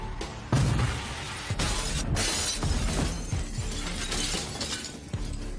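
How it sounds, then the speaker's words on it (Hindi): Glass windows shattering as a film sound effect, loud and continuous, with repeated crashing breaks and a scatter of falling shards over several seconds. "एक तेज कांच की आवाज के साथ सभी आवाजें अचानक रुक गईं"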